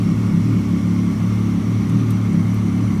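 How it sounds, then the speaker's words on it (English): A 2500 pickup with a 6.4L HEMI V8 and a faulty map sensor idles in a shop, giving a steady, low, even rumble close by with no talking. "So here is the truck running."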